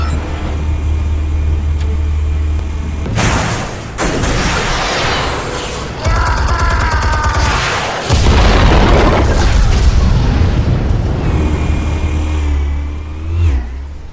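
Explosives detonate in Batman The Telltale Series, a loud game scene of repeated booming blasts and bursts over rumbling, engine-like noise and music.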